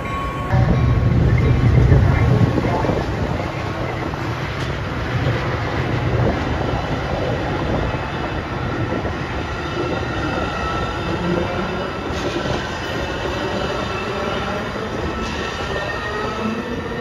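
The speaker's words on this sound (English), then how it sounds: "UNSF train number 1231 is now arriving." A freight train rumbles into a station on the BNSF line, a steady loud roll of rail noise and wheel clatter with faint squeals running through the whole stretch, with no talk over it.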